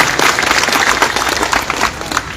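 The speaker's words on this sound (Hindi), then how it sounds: "हम चाहते हैं कि इनका भी जोरदार ताली बजा के आपको स्वागत करें" Loud, dense applause from a large crowd at an outdoor political rally, welcoming a young district council member with sustained, close clapping.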